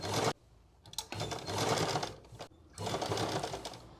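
A sewing machine stitching the waistband belt of a salwar runs in close, steady bursts of rapid needle chatter with brief pauses between runs.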